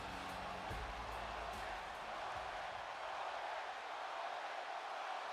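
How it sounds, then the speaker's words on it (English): A wrestling event crowd roars in a steady, dense wash of cheering and shouting, loud and continuous throughout with a few sharper bursts early on. "listen to that crowd"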